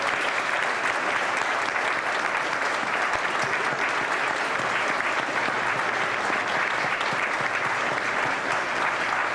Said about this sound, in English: I hope everyone will join me in another round of applause to celebrate the 50th reunion of the class of